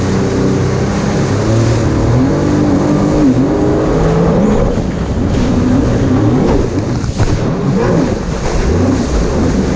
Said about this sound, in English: Hear that little supercharged whine every once in a while.